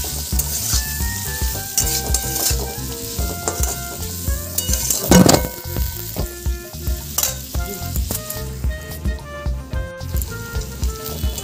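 Ground spices, amchur powder and salt sizzling in hot oil in a pan for amla pickle, a bright steady frying hiss with rhythmic stirring scrapes and one louder sputtering burst midway.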